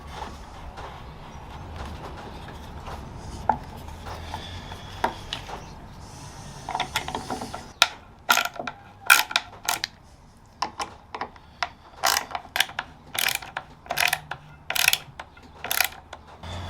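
Screws being driven into wood while building a wooden Leopold chair: after a quieter stretch, a series of sharp, close ratcheting bursts comes in quick repeated runs, with no talking.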